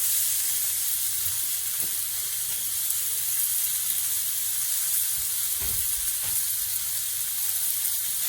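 Beef tenderloin steaks sizzle steadily in a hot pan at home, a continuous bright hiss with faint crackles and a few soft pan knocks, close and loud.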